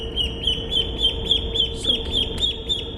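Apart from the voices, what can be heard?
baby ducks quacking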